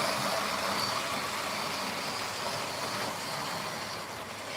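Model train running steadily along its track, a dense continuous rumble and rattle with no pauses, fairly close and even in level throughout.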